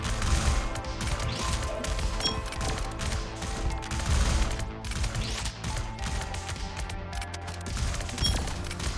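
Rapid bursts of explosions and gunfire-like blasts rattle through video game combat, loud crashing hits and thuds piling on one another with brief lulls between volleys, and no talk.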